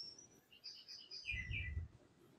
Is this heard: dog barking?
no